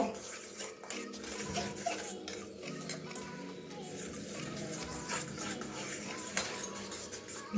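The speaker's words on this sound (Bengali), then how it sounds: "কাঁটা চামচ দিয়ে ভালো করে ফেটিয়ে নেব।" A fork rapidly beats eggs seasoned with black pepper in a bowl for a steamed egg and carrot curry, giving a steady, close run of clinking and sloshing with no pauses.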